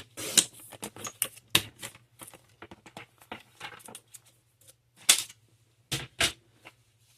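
A paper trimmer cuts a half-inch strip of pattern paper for a card, giving a run of close, crisp clicks and sliding snaps with quiet pauses and a few louder strikes, no speech.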